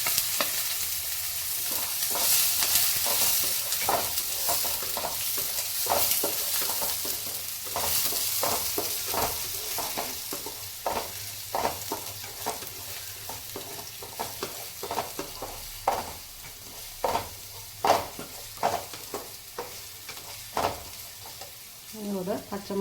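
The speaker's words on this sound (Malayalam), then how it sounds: "കടുക് ഇട്ട് പൊട്ടിക്കഴിഞ്ഞ് നമ്മൾ ചെറിയ ഉള്ളി അരിഞ്ഞത് അതിനകത്തോട്ട് വഴക്കണം." Chopped small onions sautéing in hot oil after mustard seeds have popped, a steady sizzle broken by repeated stirring scrapes throughout, close and fairly loud, with no talking.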